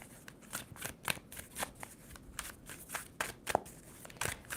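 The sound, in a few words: shuffling a deck of tarot cards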